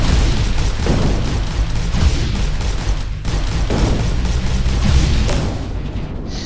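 Weapon charging in the video game Overload: a sustained, roaring rumble of booming, crackling energy that runs steadily for several seconds, loud and dense with no speech, thinning slightly at the end.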